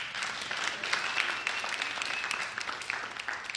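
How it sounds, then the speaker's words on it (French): A church congregation applauds throughout, a fairly faint but continuous wash of many hands clapping, heard from a distance and without a clear break. "On applaudit Jésus."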